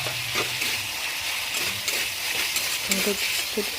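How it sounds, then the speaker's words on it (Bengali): Masala with tomato stirs and fries in a pan over lowered gas, giving a continuous soft sizzle broken by scraping and stirring sounds. "একটু নাড়িয়ে দেবো ভালো করে।"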